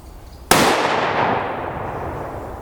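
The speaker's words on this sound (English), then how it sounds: "We'll shoot the SS195 first." A rifle fires a single round of SS195 ammunition from a 22-inch barrel: one sharp, very loud crack followed by a long, rumbling echo that slowly fades.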